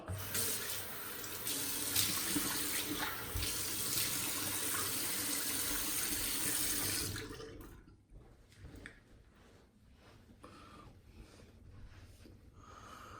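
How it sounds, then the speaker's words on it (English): Tap water runs steadily into a sink while someone rinses off after a wet shave with a single edge razor, loud and close for about seven seconds, then cuts off leaving faint splashes and drips. "Let me rinse off."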